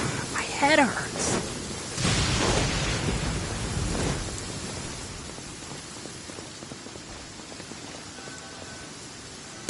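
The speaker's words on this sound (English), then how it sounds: "Thunder's so loud." Thunder and rain in the Genshin Impact game: a loud crack and broad rumble in the first few seconds, then steady rainfall hissing on underneath, with a brief voice early on.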